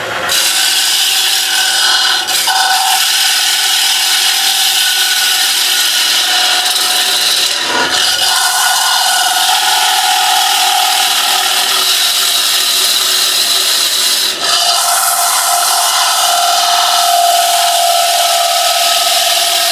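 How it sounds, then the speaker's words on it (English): A woodturning lathe tool cuts out the inside of a wooden toffee dish bowl in a loud, continuous rasping scrape that runs nearly unbroken, with brief dips where the cut pauses. "let's carry on and take the inside of this bowl away"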